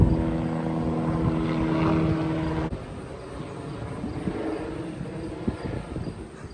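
Helicopter flying overhead, a loud rhythmic rotor thumping with engine hum that drops off abruptly partway through, leaving softer rumbling after.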